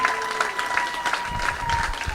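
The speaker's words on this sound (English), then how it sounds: "Applaudissons pour les leaders de All Bamileke." An audience at a community leadership dinner for a Bamileke convention gives a round of applause for its leaders, a steady patter of clapping heard at moderate distance.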